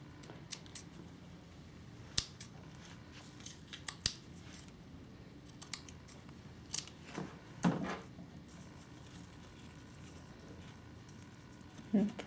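Scissors snip silk strings for a multi-strand charm bracelet, a handful of sharp, close cuts spaced irregularly, quiet beneath a low room background.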